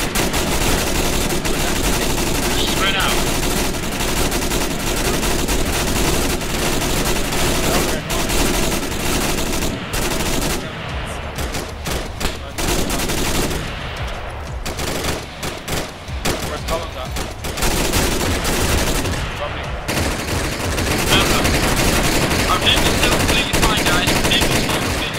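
Sustained automatic suppressing fire in a military base defence, many weapons rattling in dense overlapping bursts that barely let up for about twenty-five seconds, loud and close, with a short thinner patch partway through.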